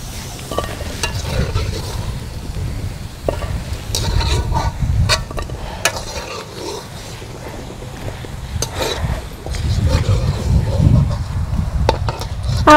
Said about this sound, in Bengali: আলু ভেজে মানে ভাজা চলতেছে আলু ভাজা